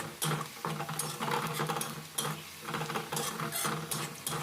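Sliced onions with whole cumin seeds stirred in a pan, a close, repeated scraping and rustling of the spoon in uneven strokes over a soft frying hiss, with no talking.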